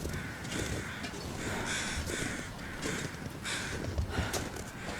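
Several crows caw in the survival video game The Long Dark, repeated rough calls in an irregular rhythm over a noisy wintry outdoor background.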